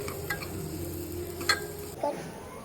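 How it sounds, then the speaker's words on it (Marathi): Onion and rice masala with turmeric and biryani masala sautéing in a pan, giving a soft steady sizzle with a couple of sharp utensil clinks and a scrape, up close with no speech. "आपण थोडीशी हळद टाकून बिर्याणी मसाला तरी असा परतून घ्यायचा"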